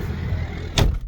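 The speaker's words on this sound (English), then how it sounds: "let's just close this door here" A door on an Ineos Grenadier Trialmaster SUV swings shut with a single solid thud near 0.8 s, loud and close, over a low idling rumble inside the vehicle.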